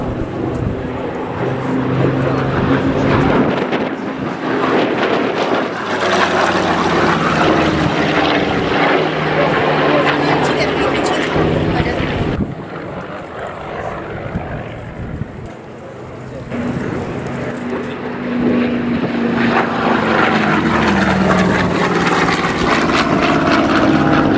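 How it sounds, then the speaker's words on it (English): A Douglas DC-3 propeller airliner flying at the Duxford Flying Legends airshow gives a loud, droning engine roar that swells, dips midway and builds again, with an announcer talking over it. "legendary Douglas DC-3"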